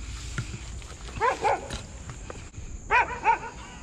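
Two guard dogs bark near a lagoon, giving two bursts of sharp, fairly close barking separated by a pause, with outdoor noise in between.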